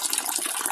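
Water lifted by a ram pump gushes into a drum inside a hut, a brief, close, steady rush of pouring water.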